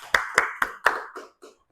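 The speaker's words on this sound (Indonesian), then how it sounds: "tepuk tangannya" Students in a classroom clap hands in four sharp, evenly spaced claps, followed by two softer, trailing claps as the clapping dies away.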